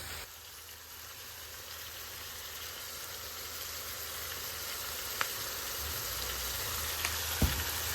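Tomatoes with salt cooking in a pan give off a steady, even sizzle that holds for the whole stretch, with a couple of faint clicks and no talking.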